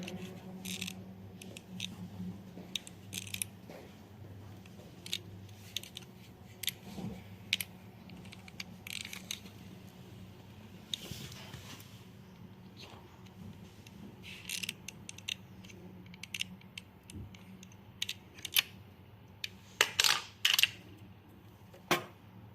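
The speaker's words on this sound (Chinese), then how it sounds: "大伙可以听当时的声音，我是怎么怼都怼不进去。" Repeated sharp plastic clicks, scrapes and knocks as a badly crimped RJ45 plug, its eight contacts not fully pressed down, is pushed and jammed against a cable tester socket, irregular and close, louder toward the end.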